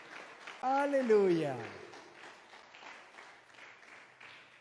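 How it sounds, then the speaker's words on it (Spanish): A church congregation claps hands in praise at a service, a diffuse patter of clapping beneath a loud sung shout of worship from one voice near the start. "Dale palmas a tu Dios."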